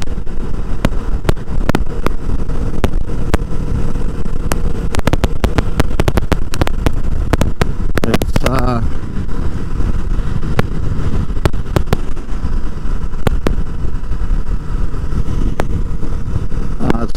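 Loud, close engine drone of a 2020 Kawasaki Vulcan S motorcycle while riding, mixed with rushing wind and scattered sharp clicks and knocks, no voices.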